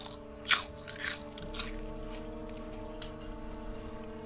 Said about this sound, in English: Chicharrones have a loud initial crunch